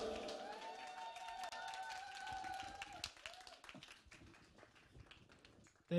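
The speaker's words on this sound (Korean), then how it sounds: "하나님께 영광의 박수를 드리겠습니다" Applause for God in a church service, a crowd clapping steadily at some distance, fading out after a sung note at the start, with scattered claps near the end.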